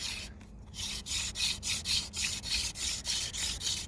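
Rhythmic wooden rubbing of a hand drill on a fireboard, a rasping back-and-forth stroke repeating roughly twice a second, close and steady with no voices.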